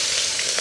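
In a village kitchen, mustard, fennel and fenugreek seeds crackle and sizzle loudly in hot oil, a dense, steady hiss filling the brief moment with no voices.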